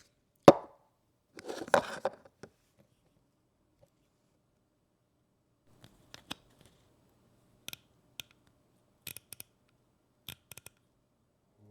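Scope turret clicks from a Vector Optics Continental and an EOTECH Vudu, both first-focal-plane LPVOs adjusting at 0.1 mil per click: a near burst of handling noise, then a series of sharp, isolated clicks spaced about a second apart in quiet.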